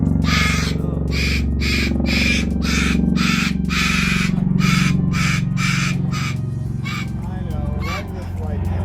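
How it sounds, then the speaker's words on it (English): Loud, repeated harsh squawks from a large cockatoo at an aviary at a sanctuary, bursting in a steady series over constant background noise, with people talking nearby. "That is a big bird up there."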